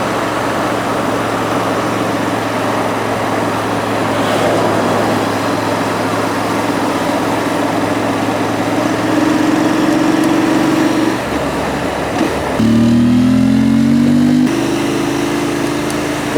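A Royal Enfield Continental GT 650 twin motorcycle engine drones loudly under way, with steady wind-buffeted rumble and rising tones as the rider shifts through the gears and accelerates near the end.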